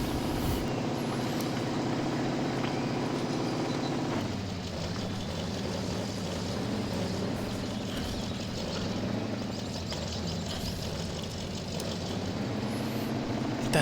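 A truck engine drones steadily in second gear while driving through muddy terrain in Mudrunner, a constant loud rumble with slight shifts in tone as it moves along.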